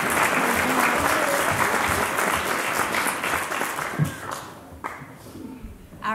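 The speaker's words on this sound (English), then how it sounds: "I want to give you an applause because that was beautiful." A congregation claps after a scripture reading, a sustained spread of many hands that gradually thins out, with a few scattered final claps at the end.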